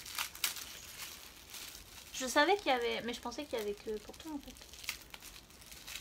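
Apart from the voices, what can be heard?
crinkling paper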